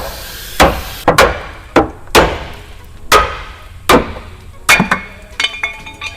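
Sharp, loud hammer strikes land one by one at an uneven pace during a solid axle swap on an OBS Chevy truck, about ten solid hits with ringing metallic tails between them.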